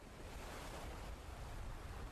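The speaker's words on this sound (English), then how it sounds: "Sitting at the beach, listening to the waves" Ocean waves wash steadily at a beach in a soft, continuous broadband hiss of surf mixed with wind rumble, faint and unbroken with no voices.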